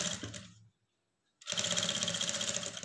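Sewing machine stitching a lining blouse, a steady buzzing run of stitches that stops for a short silent pause and then starts again, loud and close.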